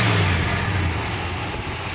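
A Dodge W150's 318 V8 runs on a freshly fitted four-barrel carburetor, a steady low rumbling idle close by that holds even throughout, with no talking.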